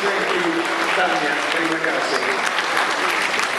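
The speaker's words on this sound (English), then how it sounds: "Let's give them a round of applause, ladies and gentlemen." Sustained applause from an audience at a halal industry conference, dense and loud throughout with a voice speaking over the clapping.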